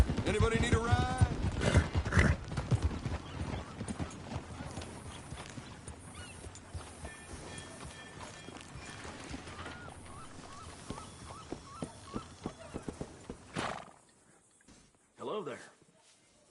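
A horse's hooves clip-clop steadily in Red Dead Redemption 2, with brief honking and fowl-like calls and game character voices talking over much of the stretch before a quieter tail.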